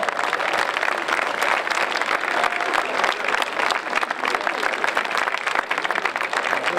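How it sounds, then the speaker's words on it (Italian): Loud, sustained applause from a crowd at the 2018 Rally di Sanremo finish, dense clapping that continues evenly throughout with a faint murmur of voices underneath. "Facciamo un grande applauso!"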